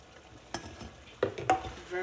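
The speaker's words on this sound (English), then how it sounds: "Now I will add some red oil" Red palm oil going into a hot pan, with a few separate clatters and brief sizzles over a quiet background and no talking.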